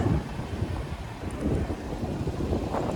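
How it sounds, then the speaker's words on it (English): Strong outdoor wind buffets the microphone during a walkaround of a 2026 Dodge Durango GT Blacktop RWD, making a steady, close, low rumbling roar with no talking. "This wind is crazy today."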